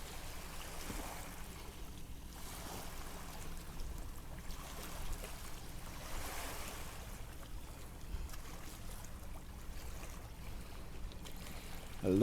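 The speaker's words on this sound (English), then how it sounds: "I love the sound of the waves." Ocean waves wash faintly in the distance, a soft rolling surge swelling and receding every couple of seconds under low wind, with no clear voices.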